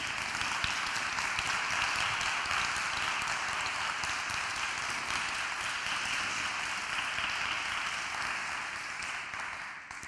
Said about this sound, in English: So I really ask you all to give a big applause to them.